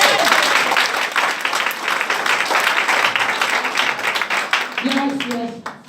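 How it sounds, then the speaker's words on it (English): A church congregation at an evening prophetic camp meeting claps loudly and continuously in a dense, crowded wash of applause that fades near the end as a voice speaks briefly. "Are you not clapping?"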